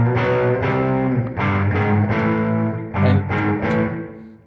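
An electric guitar plays through a budget clone of an MXR Distortion Plus pedal, strumming a series of loud, sustained, heavily distorted chords in a steady rhythm with no talking.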